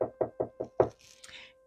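Five firm, evenly spaced knocks on a dressing-room door, close and distinct, followed by a faint rustle.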